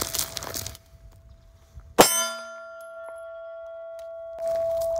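A single sharp metallic clang of a pistol round striking a steel target, a CZ P10c fitted with XS F8 sights, then a long ringing tone that decays slowly under quiet background noise.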